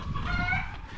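Chickens at a village house cluck in a short, busy burst, close by and fairly loud, with no voices over them.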